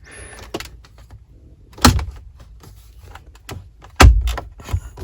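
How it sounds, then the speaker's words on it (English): Plastic trim panel being pried loose from a Jeep Wrangler Willys dashboard with a panel popper tool, with two sharp, loud snapping pops near 2 and 4 seconds among lighter clicks and handling noises, close up and without talk. "You want to get this panel right here to come off, so we need to pry it out."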